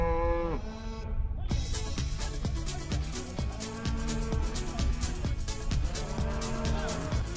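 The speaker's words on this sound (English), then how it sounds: "We just had 20 cows walk across the path of where our cables are." A herd of about twenty cattle moos repeatedly as the cows cross a path laid with cables, with long, loud lowing calls overlapping close by and steady rumbling noise underneath.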